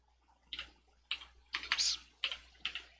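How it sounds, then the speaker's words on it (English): Short bursts of typing on a computer keyboard, a few clustered key clicks separated by pauses, close and fairly quiet in an otherwise still room. "typing in my box to find it"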